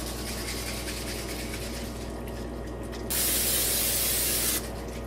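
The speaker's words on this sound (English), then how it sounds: "Just give it a little spray so," A close, sharp hiss of cooking spray into a casserole dish bursts out for about a second and a half over a steady low background hum, then cuts off.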